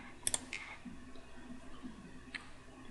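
Two quick mouse clicks land close together near the start, followed by a couple of fainter ticks over a quiet computer room background.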